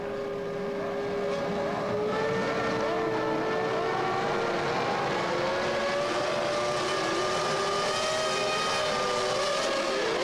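Formula 1 cars roar off the grid at the start of the 1998 Spanish Grand Prix, a dense, loud, continuous wail of many engines with pitches sliding and rising as the field fans out.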